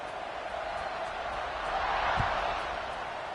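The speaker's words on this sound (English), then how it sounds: "this crowd is buzzing after that last score" Football stadium crowd buzzing after a score, a steady broad roar of many voices filling the whole stretch, swelling slightly toward the middle with no clear talk on top.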